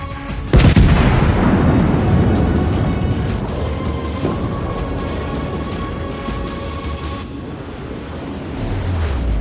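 Warship artillery salvos in World of Warships: a sharp, heavy boom near the start rolls into a long, rumbling decay, with low, steady background noise underneath and no voice.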